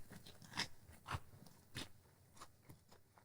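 Crisp, crunchy bites into fried shrimp toast dipped in chili sauce, several sharp crunches spaced about half a second apart, close and fairly quiet, with chewing crackles between them and no talking.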